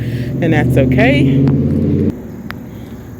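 Cars passing on a heavily traveled street, a low rumbling traffic drone under a woman's speech that cuts off abruptly partway through, leaving quieter background noise.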